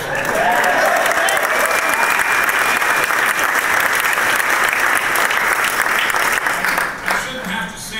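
Loud, dense crowd applause fills a political rally in New York City where a politician is speaking. The clapping holds steady for several seconds, then thins and fades near the end.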